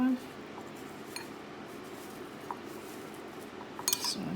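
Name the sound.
mixing coconut in a bowl for coconut shrimp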